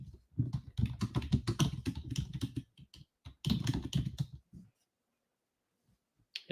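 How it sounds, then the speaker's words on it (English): Typing on a computer keyboard into a chat window: close, quick bursts of key clicks for several seconds, a short pause, another burst, then near silence with a few stray taps. "Let's just type in our chat."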